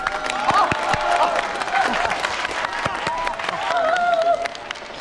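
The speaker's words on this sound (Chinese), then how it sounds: "大家鼓掌！" A crowd in a bar claps and cheers with scattered whoops, steady and fairly close, while voices chatter and call out over the applause.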